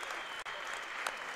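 A crowd at a high school girls' basketball game applauds in a steady, dense wash of clapping from a large gathering, with an announcer's voice faintly underneath.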